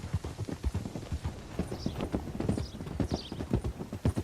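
Horse hoofbeats from a ride in the Red Dead Redemption 2 game, a brisk, rhythmic clip-clop of hooves that carries on steadily throughout, close and moderately loud.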